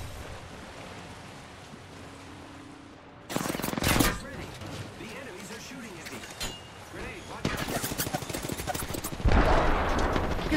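Gunfire in Apex Legends, bursts of rapid automatic shots and sharp cracks after a quiet opening, heavy and near, with voices talking over the action.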